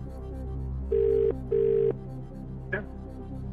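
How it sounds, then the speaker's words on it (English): Two steady electronic tones from a telephone line, each lasting about a third of a second with a short gap between, are followed by a brief click, all over a low hum, as a call is placed on a television quiz show. "can we phone Jeremy, please?"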